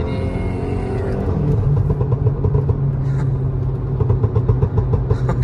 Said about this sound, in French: Donc charge du turbo à basse vitesse et décharge d'un seul coup